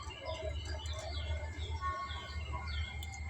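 Pigeons kept in a home loft with clay pots for nesting, a low continuous cooing hum throughout with scattered small chirps and rustles, close and moderately loud.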